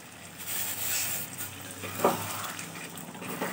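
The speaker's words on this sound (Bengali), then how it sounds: "এই গরম জলটাই আমি চিকেনে ব্যবহার করব" Hot water poured into a pan of sizzling Bihari-style chicken gives a steady close frying hiss with stirring scrapes, plus a brief sharper burst partway through, and no talk.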